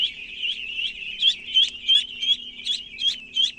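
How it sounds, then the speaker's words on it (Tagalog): Ducks in a new pen give repeated, rhythmic quacking calls, about a dozen in quick succession, close and fairly loud over a faint low hum. "Ayan mga itik."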